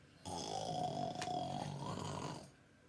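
A single drawn-out snore rumbles with a raspy, nasal tone for about two seconds, close and fairly quiet.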